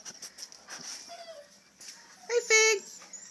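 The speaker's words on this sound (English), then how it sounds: "Big little puppies, big puppies." Young puppies whimpering and yipping near a person indoors, with short whines early on and a louder, sustained high whimper toward the end, while people talk quietly.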